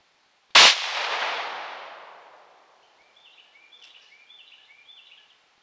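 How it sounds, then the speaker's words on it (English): A single sharp, loud report from a Marlin XT-17 rifle fired while sighting in at a target, followed by a long rolling echo that fades over a couple of seconds before faint bird chirps. "that first shot went a little low"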